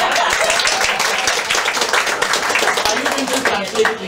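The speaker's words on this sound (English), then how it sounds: "so you can applaud in advance because you won't understand" An audience at a poetry reading session of a PEN conference in Zagreb claps steadily, a dense wash of applause with voices talking over it.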